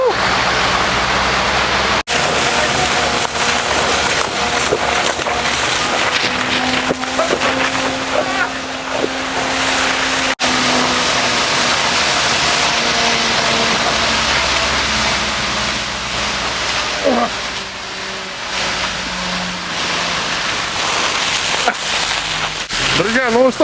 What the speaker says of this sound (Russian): сейчас будет подача воды.